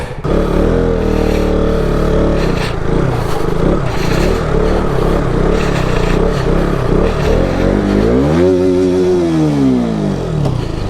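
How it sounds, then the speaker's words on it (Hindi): A motorcycle straining to climb a snowy slope, its engine roaring loudly and steadily and then revving up and down in a rising and falling whine near the end. "बिल्कुल भी बाइक नहीं चढ़ रही है"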